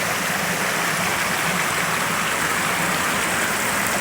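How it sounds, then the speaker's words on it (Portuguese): Strong water flow pouring down the Lagedo stream waterfall in the Brazilian sertão, a steady loud broadband rush that is constant throughout, with no voices. "Que água com força."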